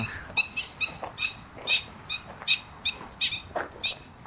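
Repeated short, high chirping bird calls at a Lycian ancient site and museum in Turkey, about a dozen bright notes spaced irregularly over a steady high hiss, fairly close and moderately loud, with no talking.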